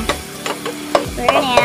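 Chopped onion with ground meat sautés in a pan for ginisang mais, a short burst of sizzling punctuated by sharp scraping stirs of a utensil.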